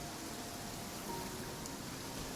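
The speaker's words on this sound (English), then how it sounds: "It's raining again?" A steady, even hiss of rainfall from Genshin Impact keeps a constant low level throughout the short stretch, with no voices and no distinct drops standing out.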